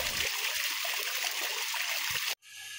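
Water from a machine-pumped well pours into a paddy field as a steady rushing gush that cuts off abruptly near the end, leaving quieter background noise.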